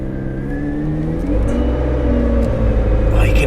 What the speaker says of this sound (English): Oh, you can hear the turbos like.